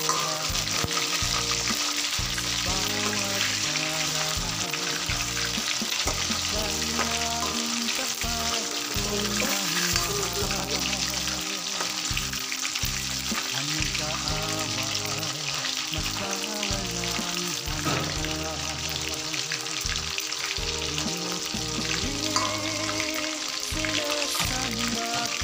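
Chicken frying in a pan for Filipino torta manok, a loud, steady, close sizzle and crackle of hot oil running without a break.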